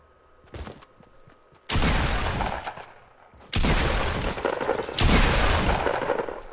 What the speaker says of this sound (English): Bro, this dude's using the stupid minigun.